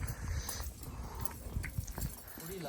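Hooves of the horse Mastana clip-clopping during training, irregular thuds and scuffs at moderate distance, fairly faint, with background noise and a brief voice-like sound near the end.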